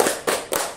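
A group doing the P2K2 rhythmic clap in a training session, three loud, even bursts of many hands striking together in quick succession, close and bright.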